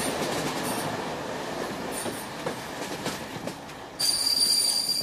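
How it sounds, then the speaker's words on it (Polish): A train arriving in Poznań rumbles along the rails with rhythmic clacking, then high metallic wheel squeals ring out loudly toward the end. "W Poznaniu ten pociąg bardzo długo stał"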